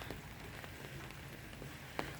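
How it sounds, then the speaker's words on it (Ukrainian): Warm May summer rain falling steadily in Zhytomyr, a soft, even patter of drops on surfaces heard at low level, with an occasional slightly louder drip and no voices. "Літній дощик такий класний"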